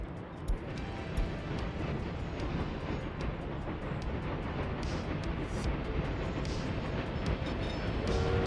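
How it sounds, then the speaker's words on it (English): A coal train rolls along tracks in a city-building video game, a continuous low rumble with rhythmic clicks of wheels over rail joints, steady and moderately loud with no voices. "Come on, coal train, move out of the way."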